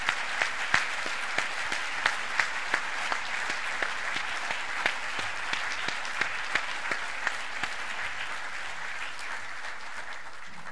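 A conference audience claps steadily for about ten seconds, a dense wash of applause with sharp individual claps popping out near the front, with no talk over it.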